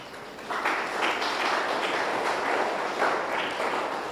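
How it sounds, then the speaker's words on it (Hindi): An audience at a Brahmakumaris spiritual class claps together in a steady, moderately loud wash of hand claps that rises and falls slightly and continues for several seconds without speech. "हाँ, बजा सकते हो ताली।"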